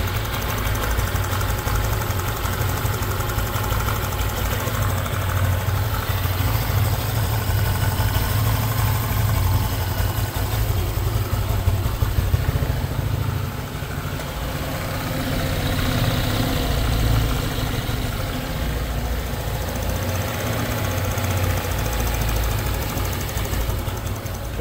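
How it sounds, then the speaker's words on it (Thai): Honda ADV150 scooter engine idling steadily after being started, a continuous low hum with faint mechanical ticking, close by and unbroken with no talk. "ไม่มีรั่วซึมเครื่องเดินเงียบกริบเนียนๆครับเนียนๆเลย"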